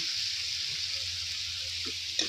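Chicken kosha curry sizzles steadily in a pan as it is fried and stirred, a constant mid-level hiss with a faint low hum and a small clink near the end.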